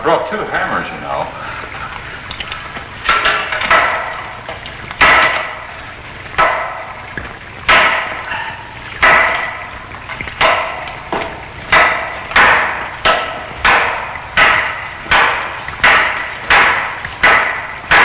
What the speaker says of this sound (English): I brought 2 hammers, you know.